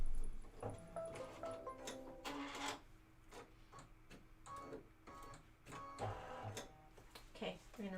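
An embroidery machine stitches the outline and detail of a leather appliqué piece over muslin, giving a busy mechanical rattle with rapid needle taps, close and steady, while a voice talks over it.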